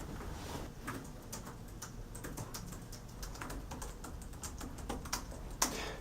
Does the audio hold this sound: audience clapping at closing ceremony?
no